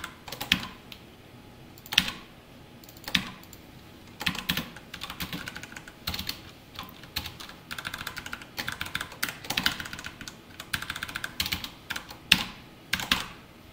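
Java code is typed on a computer keyboard in irregular bursts of quick clicky keystrokes, with short pauses and a few heavier key hits, close up and with no voices.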